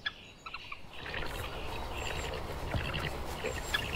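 Birds call in a Slovak forest on a spring evening: faint, scattered chirps and a short gobbling call sit over a quiet, low background, with a few brief higher notes toward the end.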